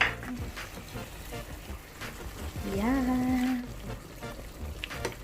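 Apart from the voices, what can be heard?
mushrooms and tuna frying in a pan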